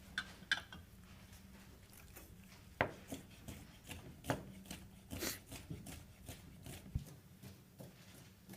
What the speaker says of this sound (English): we're just gonna give these like a rough chop